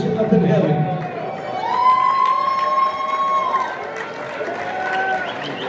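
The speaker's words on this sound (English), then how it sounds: "How about a round of applause for our 50 plus guys" Audience at an amateur motorcycle racing awards banquet cheering and whooping in a busy crowd roar, with a long sustained shout standing out and clapping mixed into the broadband din throughout.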